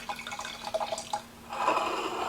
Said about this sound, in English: we're going to pour the Coletto Estate 2001 over here